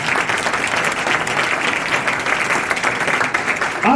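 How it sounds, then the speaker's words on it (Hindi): A church congregation at a Palm Sunday service breaks into loud, sustained applause, dense clapping filling the room without pause for the whole stretch. "जो जो नजात पा चुके हैं यीशु मसीह के लिए जोरदार ताली"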